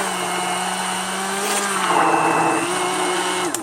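An electric hand mixer whirs steadily while beating duck egg mayonnaise that stays thin and runny, a continuous motor drone with a slight shift in pitch partway through and no talking.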